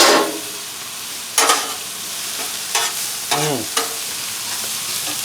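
Onions caramelizing on a Blackstone griddle, a steady sizzle broken by several loud metal spatula scrapes and clanks, close up and without speech.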